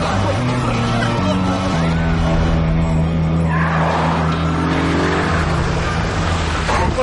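A car skids with a sustained tyre screech and engine drone, loud and close, amid background crowd babble and a steady low hum.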